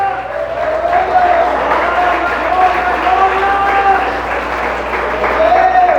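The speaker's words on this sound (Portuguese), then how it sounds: "com uma rica e gloriosa salva de palmas?" A church congregation gives a loud, sustained round of clapping mixed with cheering voices, a thick wash of hands that holds steady throughout.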